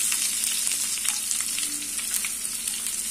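Chopped medium onions hiss and sizzle loudly in hot oil in a pan for rava upma, a dense, continuous frying crackle with faint stirring.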